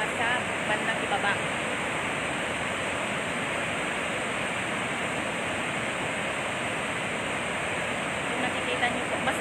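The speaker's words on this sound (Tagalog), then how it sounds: "Ngayon, mas malakas na naman yung pagpapakawala ng tubig." A dense, steady roar of water released from Magat Dam during a typhoon continues unbroken for the whole stretch, loud and broad like a heavy waterfall.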